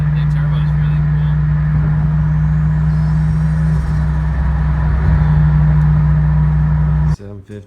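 A Toyota JZX110 fitted with a stock top-mount single turbo setup and J-pipe delete drives along with a steady, loud low engine drone and road rumble that holds throughout before cutting off abruptly near the end.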